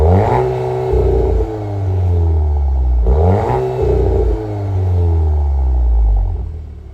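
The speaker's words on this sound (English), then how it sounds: "like the exhaust, which you can hear here" A 2025 Volkswagen Golf R exhaust is revved twice, each blip rising sharply to a loud, raspy roar before falling away, heard close and alone.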